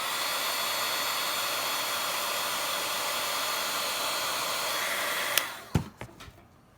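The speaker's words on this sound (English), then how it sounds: "So I also want to heat up my gun and get that off the edge." A heat gun blows steadily for about five seconds while embossing powder is melted at a craft desk, then cuts off, followed by a few sharp clicks and knocks.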